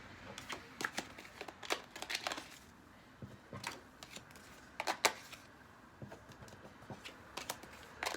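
Tarot cards being shuffled by hand, quiet close-up irregular riffling and slapping bursts spread across several seconds, no talking.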